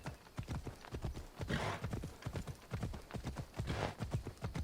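Rapid, driving hoofbeats of a galloping horse in Assassin's Creed Odyssey pound continuously, close and loud, with breathy rushes that suggest a whinny mixed in.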